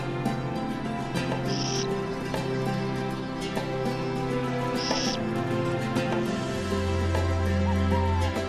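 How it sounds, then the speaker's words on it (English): Burrowing owl calling from beside its nest in a repurposed badger hole in the desert, two brief high calls standing out over a steady bed of outdoor ambience and low hum. "A burrowing owl stands sentry"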